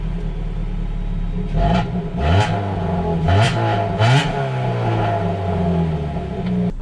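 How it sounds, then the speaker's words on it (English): A Dodge Dart pulls out of a driveway in first gear, its engine revving up in several rising pulls with a steady low rumble between, close and loud; a voice speaks briefly at the start. "Pulling out of the driveway into first gear."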